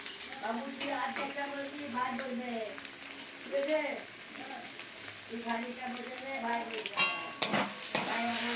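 Chowmein masala and chicken sauté in a pan with a close sizzle and stirring scrapes, while someone talks over most of it.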